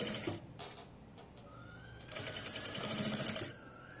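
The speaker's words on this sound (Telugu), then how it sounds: "ఇలా నీట్గా స్టిచ్ చేసుకుంటూ వెళ్ళిపోవాలి." Sewing machine stitching lace onto the round neckline of a garment, a fast steady mechanical whir that runs in short bursts and then settles into a longer, louder run of stitching, close by with no talk.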